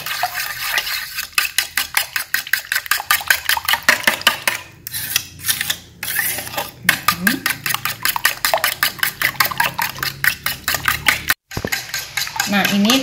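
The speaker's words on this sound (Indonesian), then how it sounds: "kalau sudah ini kita kocok sampai rata" A whisk beats pancake batter in a bowl with rapid, rhythmic metallic clinks that keep going steadily, broken by a few brief pauses.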